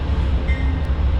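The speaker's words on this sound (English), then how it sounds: "The cars attached to it are train 448, which is the Boston section of the Lakeshore Limited when it's eastbound." Amtrak train 448, the eastbound Boston section of the Lakeshore Limited, rumbles past at Peekskill in a loud, steady low roar of passenger cars, with a faint thin squeal riding over the continuous rolling noise.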